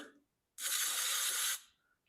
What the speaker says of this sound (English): we'll hit it with this spray glue